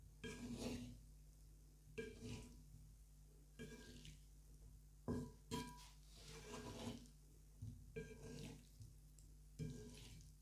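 A beetroot salad is stirred in a bowl, giving repeated wet, squelching scrapes in bursts of about a second each, with short quiet gaps between, close and fairly soft.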